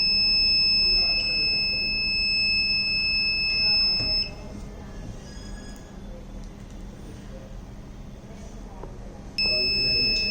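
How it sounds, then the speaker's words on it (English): A high temperature alarm buzzer on an EV battery management system with charger monitoring and fire protection sounds as a steady, shrill electronic tone for about four seconds, stops, then starts again near the end over a constant low hum. "automatically a buzzer will get switched on, as well as a fan also will get switched on"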